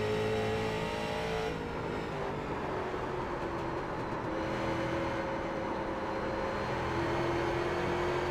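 A Street Stock race car in iRacing at U.S.A. International, its engine droning loud and steady as the throttle is eased on and off, pitch dropping and then holding, with no talking over it.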